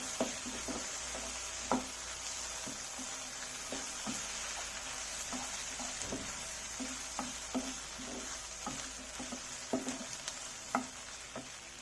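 Onions and chicken frying with tomato sauce in a pan for chilli chicken, a steady low sizzle broken by scattered clinks and scrapes of stirring.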